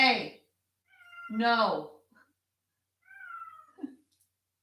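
A cat meows indoors during a yoga class, two drawn-out calls: a loud, clear one, then a softer, shorter one a moment later, with a brief voice heard at the very start.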